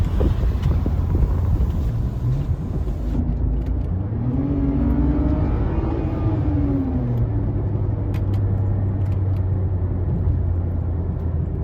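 Car with a resonator-deleted exhaust heard from inside the cabin with the windows up: a steady low droning rumble whose pitch rises and falls as the engine revs, with no talking.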